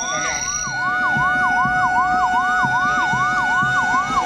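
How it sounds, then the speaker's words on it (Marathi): A 108 National Ambulance Service ambulance sounds its siren in a Republic Day parade at Chhatrapati Shivaji Stadium, Ratnagiri, with loud, close, rapidly repeating rising-and-falling wails over a vehicle engine. "त्या पाठोपाठ या ठिकाणी दाखल होत असलेली 108 ही नॅशनल ॲम्ब्युलन्स सर्व्हिस"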